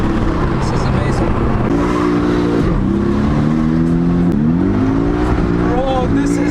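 Porsche Cayman engine revving on a drive through Karachi, a loud continuous engine drone rising and falling in pitch through several rev sweeps, heard from inside the car.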